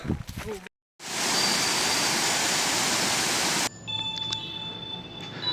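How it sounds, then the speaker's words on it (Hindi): A hidden waterfall in the Bastar forest roars as a loud, steady rush of falling water, briefly preceded by a voice, then continuing strongly before dropping to a softer, constant rush. "आवाज आ रहा है भाई पानी का।"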